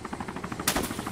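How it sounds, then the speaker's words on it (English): Rapid bursts of gunfire in DayZ on the Chernarus map, a steady rattling series of shots with one louder, closer crack partway through. "I'm being shot at"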